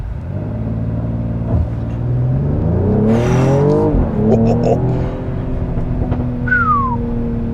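A 2022 Mercedes-AMG GLE 53 SUV's 3-liter engine revs hard and accelerates from a launch, its pitch climbing through a gear before dropping and climbing again, loud and close with a whistling whine on top.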